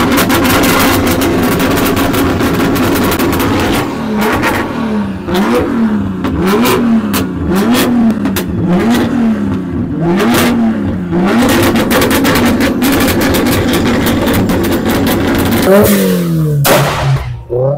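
A Toyota Supra fitted with a small truck turbocharger revs hard at a car event, its engine note swooping up and down repeatedly in a loud, continuous, rasping roar with clattering bursts near the end.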